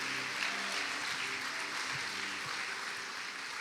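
Congregation in a church service applauding together, a steady wash of many hands clapping at moderate distance, continuous and even throughout with no voices over it.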